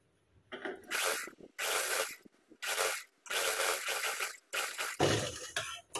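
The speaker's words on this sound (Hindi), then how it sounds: "प्रॉपर सेट करते हुए हम इसे स्टिच करेंगे।" Sewing machine stitching a belt for a lehenga, loud close bursts of rapid mechanical clatter, five runs of about a second each separated by short pauses as the fabric is repositioned.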